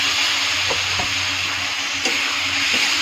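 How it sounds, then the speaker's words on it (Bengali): Chopped tomatoes being poured into a hot frying pan and stirred, making a loud, steady sizzle with a few soft scraping knocks over a short stretch and no talking. "ভালো করে মিক্স করে টমেটো কেটেটা ঢেলে দেবো।"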